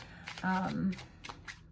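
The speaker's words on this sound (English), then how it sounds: "I'm going to shuffle a little bit more" A deck of tarot cards being shuffled by hand, several quick riffling bursts with a louder stretch in the middle, close and fairly quiet. A voice is faintly heard in the background.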